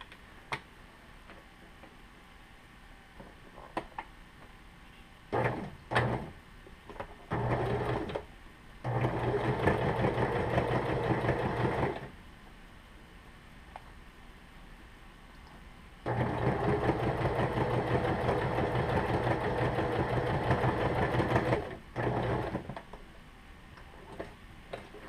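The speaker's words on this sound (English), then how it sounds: "I just run the sewing machine up the side because it's in the lining" A sewing machine runs in several bursts along the side of a lining for a double zipper, short stuttering runs giving way to two long steady whirring passes with quiet pauses between.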